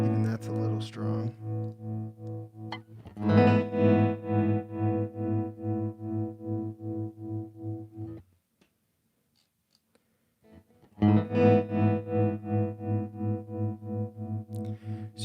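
Tremolo effect on an Empress ZOIA pedal, with sustained distorted guitar tones pulsing in a steady modulated rhythm, stopping for a few seconds of silence before the pulsing tone returns, loud and close.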